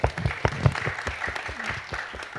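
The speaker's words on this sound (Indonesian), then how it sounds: "Jadi kita berikan tepuk tangan untuk anak-anak muda ini" Audience applause at a community seminar on waste issues in Indonesia, a dense patter of hand claps at moderate distance, steady and unbroken for the whole stretch.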